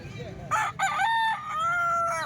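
A rooster lets out a loud, close crow with a long drawn-out final note, standing clear over faint background noise.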